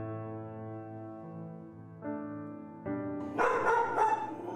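Dogs at a kill shelter bark and yip, faint and distant at first over a whining, tonal background, then a burst of louder overlapping barks toward the end.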